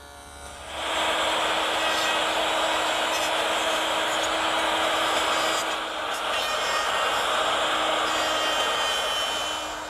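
Table saw fitted with a stacked dado head set to a quarter inch wide, cutting a groove: the motor spins up, then holds a steady loud whine through the cut and begins to wind down at the end.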